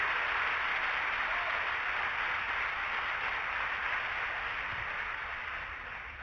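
A church congregation applauds in steady, dense clapping that fills the room, holding loud and even before easing slightly toward the end, with no voices over it.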